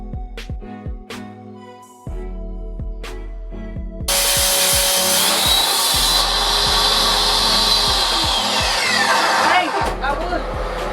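A pressure washer rinses out screen printing screens, a loud, steady broadband spray that starts partway through after some knocking and handling sounds, with a spoken voice coming through faintly beneath it.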